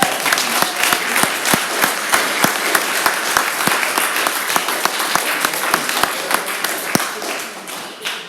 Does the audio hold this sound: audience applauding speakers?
yes